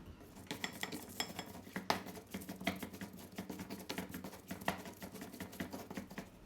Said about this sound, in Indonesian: Sekarang bumbunya akan saya ulek-ulek.